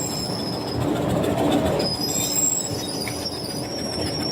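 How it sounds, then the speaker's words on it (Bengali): A train at a station in Bangladesh rolls past with squealing wheels and steady clattering rumble, loud and close, with no voices. "এখন উঠে বসছি ট্রেনে"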